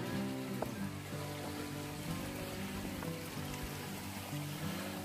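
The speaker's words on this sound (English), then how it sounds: "this creek here is actually flowing pretty good" A creek on a hiking trail near Gatlinburg, Tennessee flows steadily and close by, a continuous babbling rush with a faint low hum underneath.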